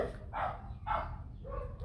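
A white family dog barks three times in a slow, evenly spaced series, fairly close and clear, with no talking.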